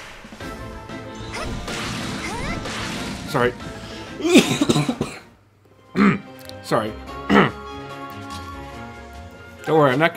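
Several sharp coughs and throat noises burst out in clusters, close and loud, separated by short pauses amid background sounds.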